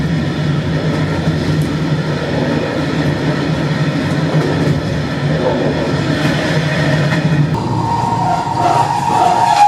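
Trains at Hradec Králové railway station in the Czech Republic, a continuous near rumble of rolling railcars and engine drone, with a higher whining tone rising toward the end.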